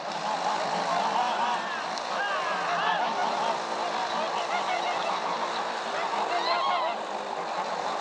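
Geese honking on an outdoor film set, a steady, busy chorus of overlapping calls with constant background noise, fairly loud throughout.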